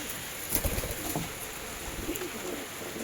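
A pigeon coos softly a few times against a steady hiss of background noise.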